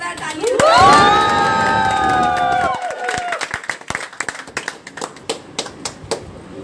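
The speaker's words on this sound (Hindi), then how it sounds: "एक बार जोरदार ताली" A crowd at a birthday celebration claps and cheers loudly, with shouts and a drawn-out vocal cheer at first, then breaking into a dense, fading patter of applause.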